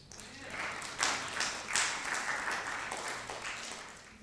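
An audience at a convocation applauds a bishop, steady crowd clapping with a few sharper bursts, sustained and moderately loud throughout with no talk over it.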